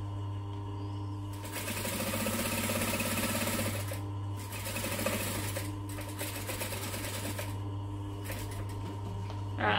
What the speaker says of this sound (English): So I'm just stitching nice and close to that edge and hoping I do not run out of thread